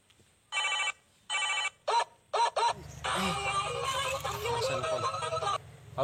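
A telephone bell rings in repeated bursts in a Sundanese comedy film, loud and close, then gives way to music and voices that carry on over a low hum.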